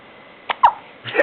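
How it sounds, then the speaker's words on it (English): A person hiccups indoors, with a couple of short, sharp gulping catches spaced under a second apart, fairly quiet and close. "Someone's got the hiccups."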